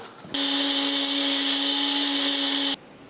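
A mixer grinder powdering roasted spices whirs loudly at a steady high pitch for a couple of seconds, then cuts off abruptly into quiet.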